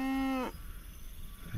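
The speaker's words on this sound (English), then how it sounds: "I feel so bad for this cow." A lone cow gives one loud, low moo up close, which cuts off sharply, then quiet outdoor ambience follows, from a Jurassic World horror short film.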